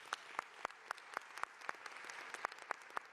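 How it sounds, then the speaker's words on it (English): Light, scattered clapping from a small audience at the opening of the Shirley Chisholm Recreation Center, sharp distinct claps in a loose, uneven rhythm, sparse and fairly quiet. "Let's give them a round of applause."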